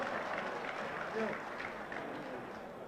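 A crowd at a UDP party gathering applauds in a dense, steady wash of clapping, with murmuring voices mixed in throughout.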